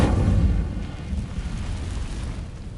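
An Incendio fire spell in a video game igniting dry vines: a loud, deep whoosh and rumbling burst of flame right up close that swells, then fades into a low, crackling roar.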